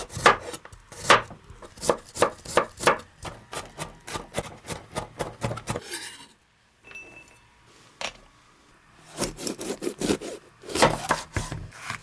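A knife mincing 20 g of garlic on a wooden cutting board: rapid, steady chopping taps, then a pause and a single knock, then another burst of quick chops, close and clear with no talk.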